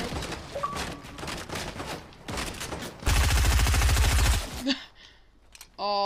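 SMG fire in a glider-themed video game match, a rapid, loud sustained burst of automatic shots after scattered earlier gunfire, followed by quieter game effects, with a voice talking briefly.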